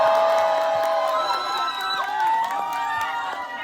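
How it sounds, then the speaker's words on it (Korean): Supporters at an outdoor presidential election rally by a lakeside park cheer and shout, with excited whoops and overlapping voices rising and falling over a steady crowd noise, close and lively. "큰 박수 주십시오."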